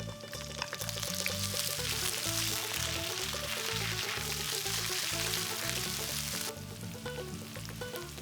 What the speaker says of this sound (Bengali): সর্ষে ফাটতে শুরু করলে কাঁচা লঙ্কা আর আদা বাটাটা দিয়ে ভাজবো।